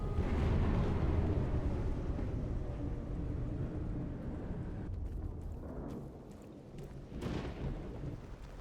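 Post-emission thunderstorm in S.T.A.L.K.E.R. GAMMA: a heavy, steady roar of rain and rumbling thunder that fades slightly midway, with a few sharper cracks and bursts near the end, no voices.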